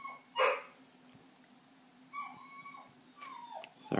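A pet dog indoors lets out a sharp bark, then a few more yips and whines spaced over several seconds, fairly close in a quiet room.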